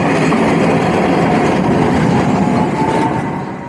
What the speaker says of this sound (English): It looks like we've got an old school tram and a new one crossing